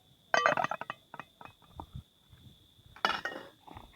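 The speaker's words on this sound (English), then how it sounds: "Cover it back." A metal lid clinks back onto a cooking pot of Jamaican brown stew chicken, a sharp clatter followed by a few lighter rattles and a second clink, close and fairly loud.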